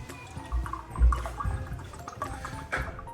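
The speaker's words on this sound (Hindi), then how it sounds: "इसमें हम डालेंगे 6 कप दूध" Six cups of milk are poured into a pot for custard, a gurgling splashy stream coming in uneven surges with a few heavier glugs, close and fairly quiet.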